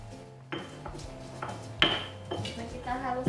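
Candlenut and spices being ground with salt produce a handful of hard, close clacks and grinding scrapes at an uneven pace, with no voices.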